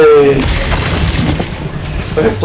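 Shatter ability in the video game Atlas Fallen, a short burst of breaking, booming impacts near the start, then fainter crashes and scattered hits under a low rumble, with a louder burst at the end.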